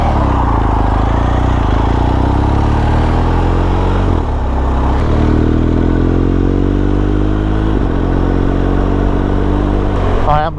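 A motorcycle is ridden with the engine droning loud and steady close by. Its pitch rises repeatedly in sweeps, then drops briefly around each gear change.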